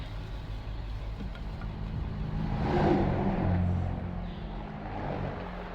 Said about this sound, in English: airplane taking off.